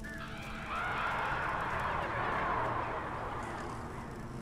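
Honking bird call in the Alan Wake video game, a single drawn-out loud honk that rises then fades over a low ambient rumble, with no talk over it.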